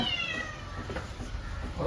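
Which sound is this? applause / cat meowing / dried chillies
cat meowing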